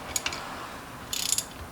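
Ratchet tightening a bolt on the steering wheel of a 1994 Chevrolet S10 Blazer 4x4, a quick run of about eight close metallic clicks after an earlier pair of ticks.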